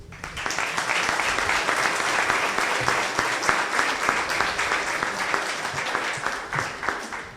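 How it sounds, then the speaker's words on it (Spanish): A large audience applauds author Cipriano Flores Cruz at the presentation of his book on political operation, with dense, sustained clapping that fills the room steadily throughout. "para quien pido un fuerte aplauso"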